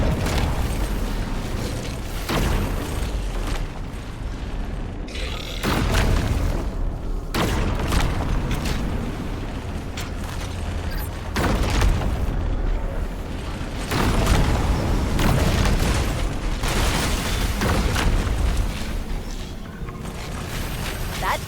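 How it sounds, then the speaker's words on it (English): A pulse generator in the Halo campaign overloads and blows apart: a run of heavy, rumbling booms and blasts, one after another, with mechanical clatter between them, loud and close throughout. "The pulse generator overloaded."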